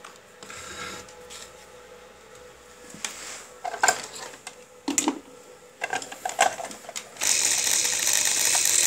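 A sewing machine with an oiling fault runs sluggishly, giving a steady mechanical whir with intermittent clacks and bursts. The sound gets louder and busier toward the end, close by, with no talking.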